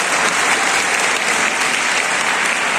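Loud, dense applause from a large audience at a national youth policy event in honour of Chief Minister Shivraj Singh Chouhan, sustained evenly throughout.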